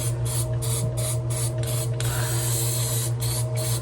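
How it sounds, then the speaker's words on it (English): A spray can hisses in short repeated bursts while homemade gas tank bolts are spray painted in a garage, with a steady low hum underneath and one longer continuous spray near the middle. "I'm just spray painting my my homemade gas tank bolts."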